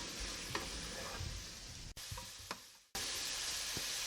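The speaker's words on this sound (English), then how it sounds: "what I'm going to do is saute this onions and cook the shrimp" Onions and shrimp fry in a pan for fried rice, giving a continuous close sizzle with occasional stirring clicks and two abrupt cuts in the sound.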